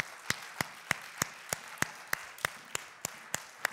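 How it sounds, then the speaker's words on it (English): Applause for children leaving a church service: sharp, regular claps about three per second, faint and somewhat distant, with no talk over them. "let's give them a good round of applause as they go out"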